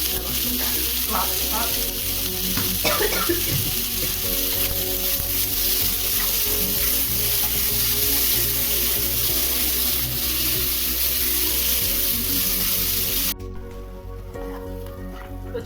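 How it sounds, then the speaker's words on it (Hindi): Chopped tomato and other ingredients fry in a pan with a loud, continuous sizzle and crackle, broken by a few stirring scrapes, while a person talks briefly over the cooking. "चलिए इन सब थोड़ी देर भून लेते हैं"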